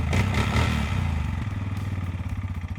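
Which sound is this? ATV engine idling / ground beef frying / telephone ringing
ATV engine idling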